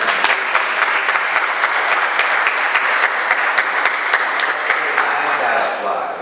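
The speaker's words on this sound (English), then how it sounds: "Please, give a round of applause." An audience at a live interview show gives a sustained round of applause, loud dense clapping with sharp individual claps standing out, continuing steadily for several seconds.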